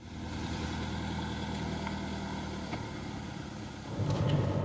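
A classic Mercedes diesel car engine idles with a low clatter, then the note deepens and grows louder near the end as the car pulls away.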